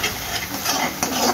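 A spoon scrapes and stirs salted food in a pan while cooking shahi paneer, several close, rough strokes over a soft sizzling hiss, with no talking.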